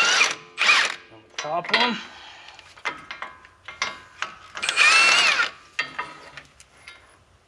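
A power drill or impact tool spins in short bursts removing wheel bearing bolts on a Ram 2500, with clicks and clanks between runs and someone speaking briefly.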